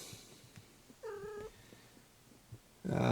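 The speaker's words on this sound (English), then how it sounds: "Someone's meowing." A single short meow from a cat, fairly faint against a quiet room, with some clattering noise right at the end.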